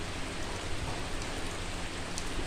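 Steady rain falls continuously, an even, unbroken hiss at moderate distance with no other sounds standing out.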